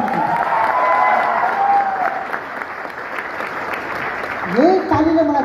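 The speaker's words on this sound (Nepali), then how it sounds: "यही तालीले मलाई जोस आउँछ" Audience at a leadership training talk clapping steadily throughout, a dense close burst of applause with a voice speaking over it near the end.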